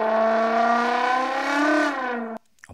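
A trombone imitates a car engine: a single sustained brassy tone that swells and dips like revving, loud and close, before cutting off abruptly, followed by a brief faint sound.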